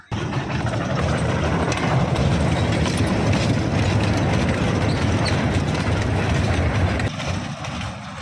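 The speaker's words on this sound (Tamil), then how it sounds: "இது ரயில், குட்டி ரயிலுங்க" A steady, close rumble of a small amusement park train running at a water theme park in Coimbatore, with rattling wheels and engine noise continuing without pause and no voices.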